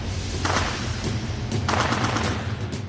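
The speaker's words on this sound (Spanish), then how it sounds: "empiezan a sonar disparos cerca del Palacio Presidencial" Gunfire near a presidential palace in Haiti, a rapid volley of sharp cracks and bursts that blur into a continuous rattle, loud and close, with no voices.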